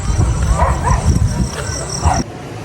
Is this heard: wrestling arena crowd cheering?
no